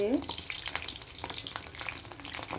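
Eggplant fritters (beguni) frying in hot oil, a steady close crackle and sizzle with small bursts of popping throughout, no talk.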